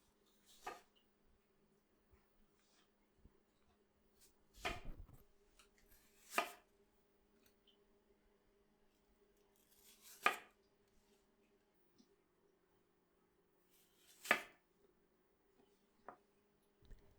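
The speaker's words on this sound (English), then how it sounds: "I recommend cutting them lengthwise into halves or quarters" A knife cuts thick asparagus spears lengthwise on a board, giving sparse, crisp chopping taps about six in number at irregular intervals, close but quiet over a faint background hum.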